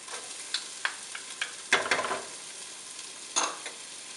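Chopped potatoes with yellow, orange and red peppers stirred and frying in a pan, soft sizzling with scattered utensil scrapes and clicks, a louder stirring burst midway and another near the end, no talk.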